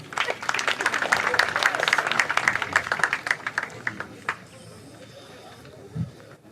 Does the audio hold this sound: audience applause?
yes